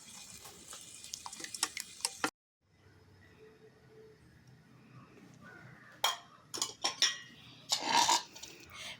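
Eggs mixed with pepper powder being stirred in a bowl, heard as a run of quick clinking taps of utensil against the bowl, clustered at the start and again toward the end with a quieter stretch between.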